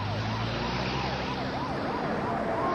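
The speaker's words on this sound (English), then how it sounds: "Hearing the sound of sirens," Sirens of approaching rescue vehicles wail in a repeating rising-and-falling pattern, steady and fairly distant over a low engine drone, with no voices present.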